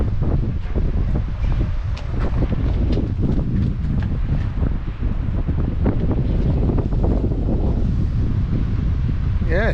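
Strong wind buffets the microphone on the Cornish coast at Land's End, a loud, steady roar with gusty rumble and faint surf beneath, continuous throughout.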